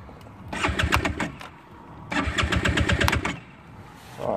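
A motorcycle's electric starter, pressed after a crash with a suspected float-bowl problem, cranks in two loud rhythmic bursts of about a second and a half each, separated by a pause, without the engine catching.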